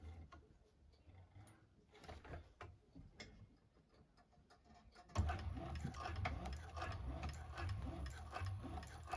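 A 1341 cylinder arm sewing machine tacks fabric: faint ticking and handling at first, then the machine starts and runs with a dense, steady mechanical whir, close and fairly loud, with no talk.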